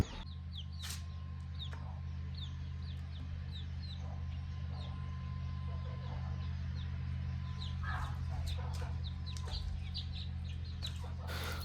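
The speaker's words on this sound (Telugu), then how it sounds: "ఇప్పుడు మనం కోడిని తెచ్చుకుందాము" Chickens cluck and chirp in short scattered calls over a steady low mechanical hum, fairly faint and continuous throughout.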